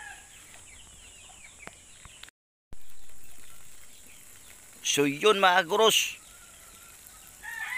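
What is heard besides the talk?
native chicken clucking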